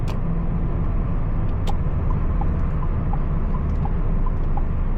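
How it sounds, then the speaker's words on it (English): A 2025 Changan Eado driving in sports mode gives a steady, loud engine and road drone throughout, with faint ticks and no talking. "Let's put the car in sports mode."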